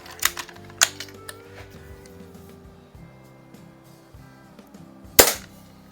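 Daisy model 99 BB gun, an old Survivor refitted with a new pump cup, fires sharp snappy shots: a few quick cracks near the start and a louder single crack near the end, with mechanical clicks between.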